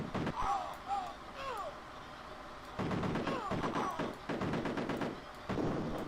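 Rapid gunfire shooting at barrels in a retro video game, bursts of sharp repeated shots in clusters with pauses between, mixed with game effects and voices talking over it.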